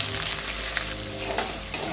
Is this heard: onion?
yes